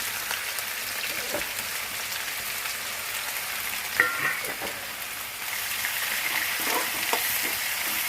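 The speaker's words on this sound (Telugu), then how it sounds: "ఈ తాలింపు వేగిపోయింది, ఉల్లిపాయలు వేసేస్తాం" Steady, dense sizzling of onions added to hot tempering oil, close by, with a few faint stirring taps; no voices.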